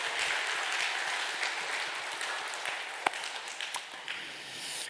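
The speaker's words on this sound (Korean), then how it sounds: "옆에 분에게 박수." A church congregation applauds one another during a Sunday worship service, a steady, moderately distant wash of clapping that carries on for about five seconds with a few sharper claps standing out.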